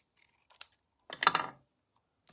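Scissors snip through patterned paper to cut out a small pencil shape for a handmade card, a couple of faint clicks followed by one short, close crisp cut in a quiet room.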